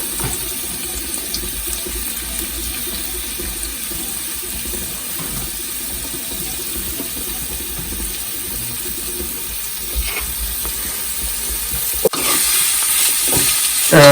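Green chillies and sliced onions fry in a pan for an Idukki-style boti (tripe) curry, giving a steady, continuous sizzle and hiss that holds at a fairly even loudness throughout.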